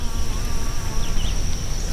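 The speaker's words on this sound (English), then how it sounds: "the bees love this" Bees buzzing around tall comfrey plants in a garden, a continuous close hum over steady low outdoor rumble, with no clear talk.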